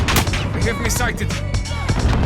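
Gunfire in a military shooter video game, dense bursts of shots and booms layered with game sound effects and a radio-style voice talking throughout.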